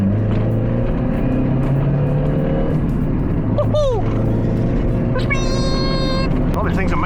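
A Mazda Miata pulls away in second gear with a steady engine drone and some rattling. A person talks over the engine throughout.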